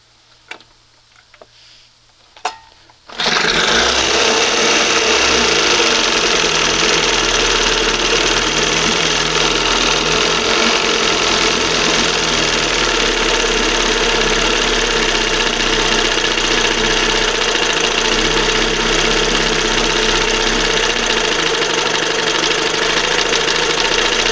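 A 1971 Johnson 20 HP outboard motor catches after a few quiet clicks and then runs loud and steady, a rough continuous drone close by that carries on to the end.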